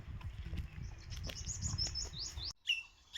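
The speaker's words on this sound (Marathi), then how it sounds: "पक्ष्यांचा आवाज बघा इथे वरती आहे" Birds chirp and tweet overhead in quick high calls along a village path in the Konkan countryside, with a low rumble of background noise beneath them.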